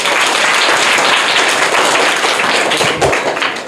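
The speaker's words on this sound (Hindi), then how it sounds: "जोरदार तालियां।" A crowd at a private school in Bihar claps loudly and close for a prize winner, dense rapid applause sustained throughout with a few sharper thumps near the end.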